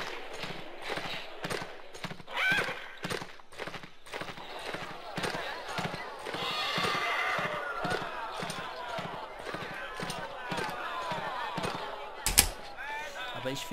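Rhythmic hoofbeats of a horse in the video game Swordsman moving at a steady pace, with voices talking over them and one sharp crack near the end.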